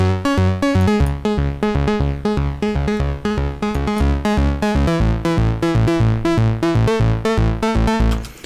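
Punchy bass line from a Moog Subsequent 37 analog synth run through Fabfilter Saturn 2 saturation, with a lightly EQ'd low end: a steady run of short, rhythmic notes at a fairly loud level, heard alone with no talking.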